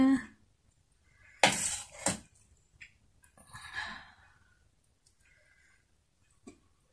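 Food being mixed in a cooking pan: a few sharp metallic scrapes and clinks of a spoon against the pan, spaced out with quiet gaps between them, and faint voice sounds at the start.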